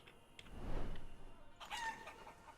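Chickens in the medieval survival game Life Is Feudal: Forest Village cluck and crow in a short burst, with a rooster's rising call near the end over a low, steady ambient background.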